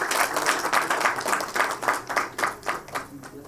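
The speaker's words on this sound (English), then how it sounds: "A huge round of applause for Rishi Verma too" Audience at a TiE Chandigarh business panel applauding, a smaller crowd clapping in uneven bursts that thin out and fade toward the end.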